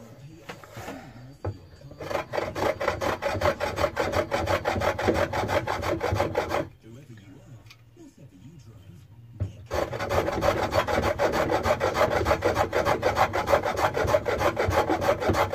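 A Lie-Nielsen No. 60 1/2 block plane shaves end grain wood in close, rapid rasping strokes, two long runs of scraping passes separated by a brief quieter pause, with no talking.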